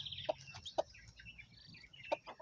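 A brooding hen with eleven newly hatched chicks makes a few short, faint clucks spaced irregularly, with soft chick peeping in the background.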